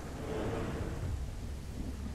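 Thunderstorm in the survival game The Isle Evrima: heavy rain hiss under a low thunder rumble that swells early and then settles into a constant downpour, with nobody speaking.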